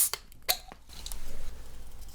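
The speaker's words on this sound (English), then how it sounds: "I'm going to add some tonic water." Tonic water poured over ice into a non-alcoholic mocktail: a few crisp clinks and ticks at first, then a steady soft fizzing pour and bubbling that continues to the end, close and fairly quiet with no talking.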